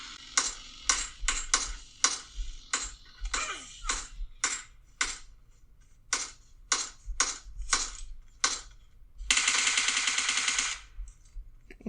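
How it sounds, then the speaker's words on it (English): Gunfire in the mobile battle-royale game PUBG Mobile, played on a 7th-generation iPad: a series of sharp, evenly spaced single shots, then a dense burst of rapid automatic fire near the end, with no talk. "I'm getting some shots on me"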